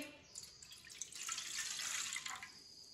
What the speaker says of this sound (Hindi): एक गिलास पानी डाल लेंगे।